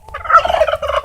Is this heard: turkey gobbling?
yes